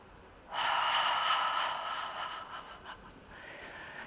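A long, breathy exhale through an open mouth during a qigong stretch, soft and close, rising sharply then tapering over a few seconds, with a fainter second breath near the end.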